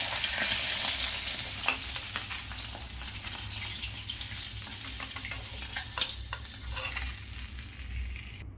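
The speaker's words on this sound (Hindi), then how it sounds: "देखिए दोस्तों, मछली फ्राई हो चुका है" Rohu fish sizzling steadily in hot oil, a continuous crackling hiss with occasional pops and stirring sounds, no voices.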